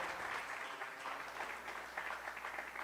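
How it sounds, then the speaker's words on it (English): Steady applause from a sizable crowd, continuous clapping at moderate volume without any voices over it. "I don't think I heard enough round of applause for Sunil."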